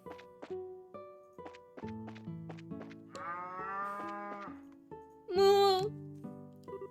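Cows mooing in the Trails in the Sky video game, a couple of drawn-out moos over a plucked melodic game tune, the second moo louder and close.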